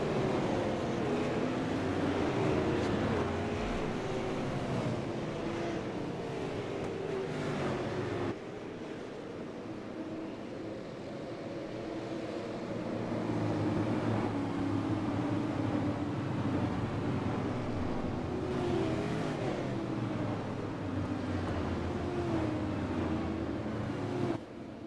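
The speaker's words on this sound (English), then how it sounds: "the Mustang iRacing pace car will lead them off the grid and start the first of a 2-lap" A field of race cars following the Mustang pace car off the grid at Stafford Motor Speedway in iRacing: a steady, dense drone of many engines at moderate pitch, rising and falling slightly as the pack rolls along.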